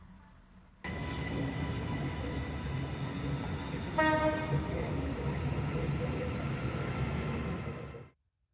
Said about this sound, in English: the sound is a train